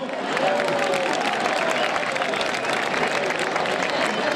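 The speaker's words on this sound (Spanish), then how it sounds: "Un aplauso, por favor." An outdoor village festival crowd in Santiaguiño, Vedra, Galicia, applauds during a Paris de Noia orchestra show, a thick, continuous wash of many hands clapping at steady volume, with some cheering mixed in.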